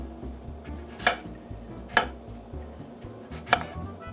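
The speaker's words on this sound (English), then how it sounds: "slicing the potatoes really thin" Unpeeled potatoes are sliced thin on a cutting board for scalloped potatoes, with three crisp knife chops landing at uneven intervals over a faint low background hum.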